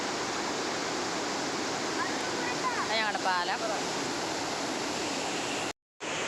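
Stream water pouring over a small check dam and through a field channel after rain: a constant broadband rush, close and even, with a voice speaking briefly in the middle before a sudden cut near the end.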